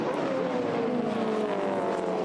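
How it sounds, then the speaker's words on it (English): Touring race cars, including a Ford Mustang, roaring around the Hidden Valley Raceway circuit on a final lap, with a loud, sustained engine drone and shifting pitch as the cars pass. "Steve's a pretty smart racer, so he'll make this Mustang pretty wide for this last lap"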